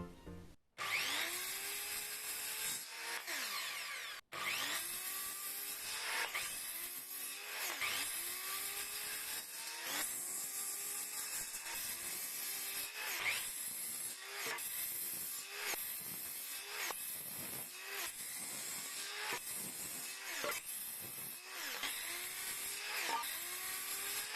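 Wooden boards for an aquarium stand are cut by hand saw, with rhythmic rasping strokes repeating steadily and close for the whole stretch.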